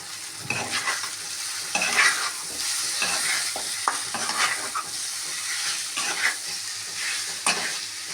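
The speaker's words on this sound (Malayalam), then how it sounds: "നന്നായിട്ട് മിക്സാക്കി കൊടുക്കാം." Chicken roast with curry leaves fries in a pan while being stirred, a steady close sizzle broken by repeated scraping strokes of the spoon against the pan, with no talking.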